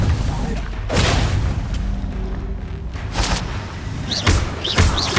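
Bombarda blasting spell explosion in the Hogwarts Legacy video game: several loud booming blasts and thuds in quick succession over game effects, with a voice shouting spell names in between.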